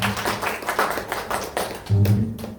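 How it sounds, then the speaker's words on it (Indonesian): A small group at a teachers' training session claps for a participant, with steady overlapping claps close by. A low voice or hum rises near the end as the clapping thins. "Tepuk tangan untuk Bapak Ratno"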